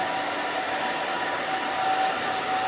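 A hair dryer blows steadily and close, a continuous even whoosh with a faint whine, drying hair before it is styled with a round brush.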